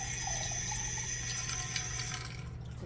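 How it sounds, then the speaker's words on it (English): Water pours in a steady, close stream into a pot of cooking rice for a few seconds, then trails off abruptly near the end. "so I'm going to add a little more water"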